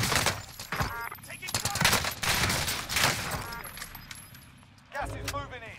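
Loud, dense automatic gunfire in Call of Duty Warzone rattles in rapid bursts across the whole stretch, with a brief lull before a heavy burst resumes near the end.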